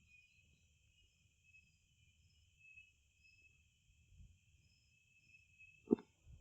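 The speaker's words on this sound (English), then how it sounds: "Those crickets are sounding beautiful tonight." A steady chorus of crickets trills continuously at a high pitch, with a faint low rumble beneath and a single soft knock near the end.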